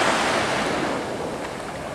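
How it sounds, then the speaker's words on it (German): Sea waves wash onto the Caribbean coast at Playa del Carmen, Mexico, a steady, loud roar of surf with wind buffeting the microphone, with no voices. "Morgen an der Karibikküste."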